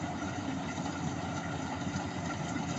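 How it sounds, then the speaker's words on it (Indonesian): The engine of a combine harvester drones steadily during a rice harvest, a constant low mechanical rumble with no pauses and no voices. "Mesin panen combine harvester ini selain mempercepat proses pemanenan dan menghemat biaya upah buruh tani"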